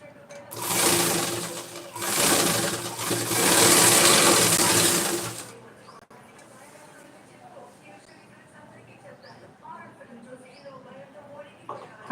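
A sewing machine stitches a saree petticoat in three close whirring bursts over the first five seconds, then falls quiet while a person talks.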